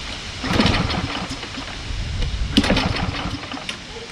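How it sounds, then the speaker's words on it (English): A Lawn-Boy push lawnmower with a Kohler 6.5 engine being pull-started: rough, sputtering rattles and cranking pulls with brief bursts, no steady running, nearby. "if this starts on the first pull and runs on its own, we don't need to clean the carburetor"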